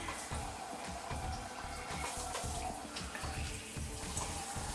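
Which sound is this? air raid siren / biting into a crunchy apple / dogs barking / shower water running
shower water running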